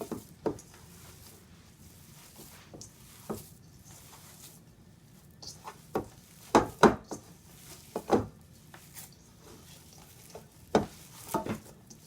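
A spoon stirring and mixing lasagna filling in a bowl, giving scattered soft scrapes and knocks at uneven intervals, fairly quiet and close, with no talking.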